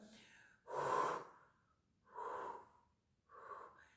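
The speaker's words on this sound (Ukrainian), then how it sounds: "збираєте губи в трубочку, так, наче ви задуваєте" Three breaths blown out through pursed lips, as if blowing out candles, each one shorter and softer than the one before, close and breathy with pauses between.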